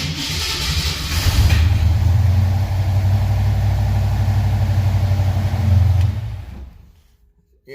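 A 1968 Mercury Cougar V8 fitted with a Holley Sniper fuel injection fires up and idles with a loud, steady, deep rumble, then shuts off and falls silent near the end.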